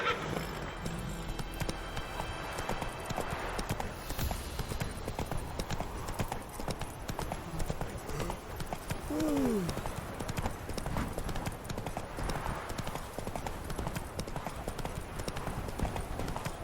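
Continuous hoof clip-clop from the horse Roach trotting in The Witcher 3: Wild Hunt runs under game dialogue and background ambience, with a brief whinny-like rising call midway.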